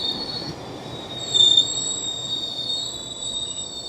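Train carriage wheels squeal on the rails in a sustained, piercing high-pitched screech, loud and close, with a low rumble of rail travel underneath and no voices.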